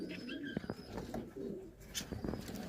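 Fantail pigeons coo softly and steadily at close range, low murmuring calls repeating across the moment, with a few higher chirps from other birds mixed in and no voices over them.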